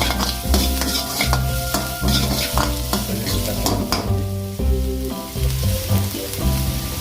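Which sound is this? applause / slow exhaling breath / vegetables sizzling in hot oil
vegetables sizzling in hot oil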